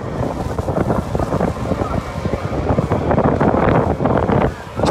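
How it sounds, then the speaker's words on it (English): Hard wind blows across a hilltop at the Lydden Hill race circuit and buffets the microphone in a steady, close, loud roar that lasts throughout with small gusty surges. "just try and get how windy it really is up here"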